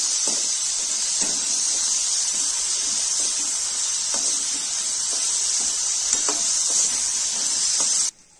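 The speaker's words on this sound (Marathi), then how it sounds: "चांगले परतून घेऊ।" Chopped eggplant sautéing in a pan for a Maharashtrian bhogi vegetable dish gives a steady, loud hissing sizzle with faint stirring knocks throughout, ending abruptly.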